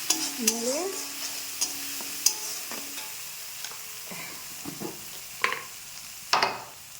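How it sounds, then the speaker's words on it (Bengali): Ginger, garlic and onion paste with turmeric frying in a pan, a close continuous sizzle punctuated by repeated scraping and clinking strokes of a stirring spoon, with a brief tonal creak early on and no talk. "আদা রসুন পেঁয়াজের পেস্ট দিয়ে দিলাম সঙ্গে একটু হলুদ গুঁড়ো দিয়ে দিলাম দিয়ে একটু নাড়ি নাড়লাম"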